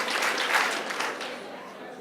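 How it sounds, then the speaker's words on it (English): An audience at an anti-racism workshop claps in answer to a count request, giving a short burst of applause that fades over about two seconds. "If you can hear me, clap 4 times."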